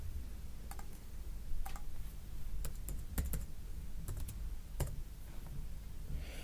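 Scattered clicks of arrow keys tapped on a computer keyboard, single and double presses at irregular intervals against a quiet background hum.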